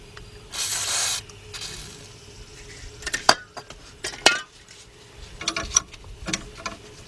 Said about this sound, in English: spray this a little bit